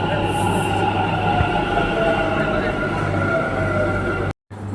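A metro train rumbles steadily nearby with a droning hum and faint high squeal, then the sound cuts off briefly near the end.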